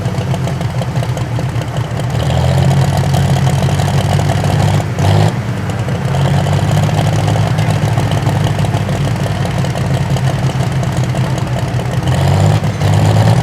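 The John Deere pulling tractor Deere Gone Wild roars with a loud, steady engine drone at a truck and tractor pull, dipping briefly midway before the rumble resumes.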